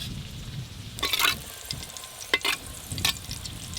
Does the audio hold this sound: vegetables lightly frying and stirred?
yes